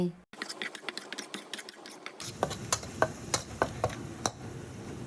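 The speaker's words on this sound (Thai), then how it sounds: "แล้วผัดให้น้ำตาลละลาย" Tamarind sauce with sugar stir-fried in a pan for crispy chicken-skin chili paste, with repeated light scraping and tapping of a utensil against the pan over a soft sizzle, close and steady.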